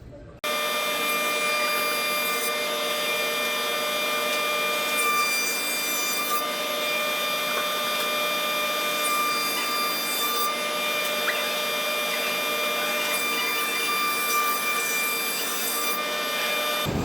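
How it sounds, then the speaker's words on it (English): A maple board is fed through a wood planer, producing a loud, continuous whining roar with a bright edge. Slight shifts in the cutting noise come as the blades bite the wood, and no voices are heard. "So I'm going to run this through the planer"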